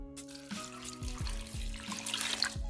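Water from a tap runs steadily into a soup pot for bamboo shoot soup, a continuous close splashing pour with a few clunks of the pot, and no talking over it.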